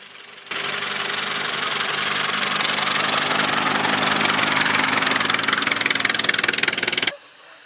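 A steam engine at a country fair runs with a steady, rapid mechanical chugging and knocking that starts abruptly, holds loud and constant for about six and a half seconds, then cuts off.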